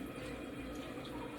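Water running from a tap to rinse a facial brush at a spa sink, a soft steady splashing flow, faint and continuous.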